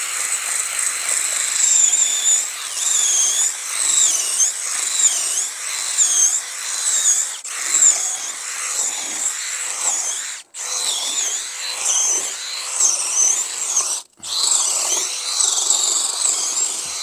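A cordless drill whines steadily at high pitch as it mills a nest cavity directly into wood, striking embedded iron, the motor wavering under load with a few brief pauses.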